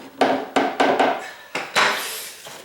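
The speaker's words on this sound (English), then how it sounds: "Get my hammer out." A hammer strikes plywood while a bed box seam is being joined, giving about six sharp, resonant knocks at uneven intervals, each ringing briefly before fading, with no talking.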